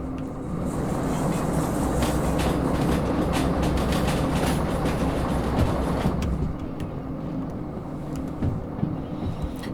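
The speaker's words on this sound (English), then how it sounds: "Let the train come round to the right here." A heavy freight train in Derail Valley rolls along the track with a constant loud rumble and rhythmic clickety-clack of wheels over rail joints, close and sustained throughout, no talking.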